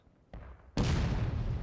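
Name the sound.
musket gunfire volley in video game War of Rights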